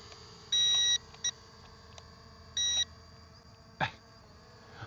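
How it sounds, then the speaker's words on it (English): Two clear electronic beeps from the trim button of a Holystone HS320 drone controller, each lasting about half a second, followed by a short click and a faint background hum, with no talking. "You hold that in till you hear the beep"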